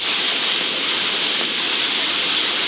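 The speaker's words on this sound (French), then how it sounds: "Là, je suis au milieu de la zone des cascades." Waterfalls roar through a mountain canyon walled by cliffs hundreds of metres high, a loud, dense, unbroken rush of falling water close by with no voices.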